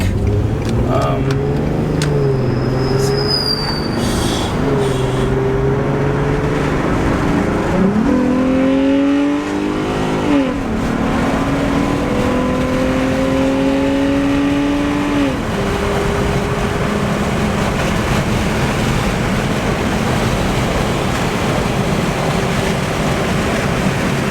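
An otherwise stock car with an aftermarket intake revs and climbs through the gears while driving, pitch rising and dropping with each shift, steady road noise throughout.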